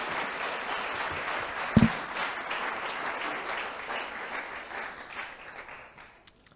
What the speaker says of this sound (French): Je pense qu'on peut applaudir les membres de cette table ronde.